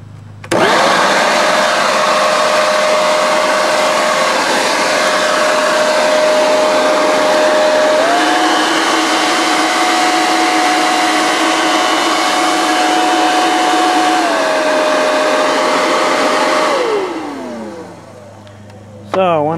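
A cheap Toro electric leaf blower switches on and runs loud and steady with a high whine for about sixteen seconds, its pitch stepping up midway when it is cranked to the higher speed and then back down before it winds off.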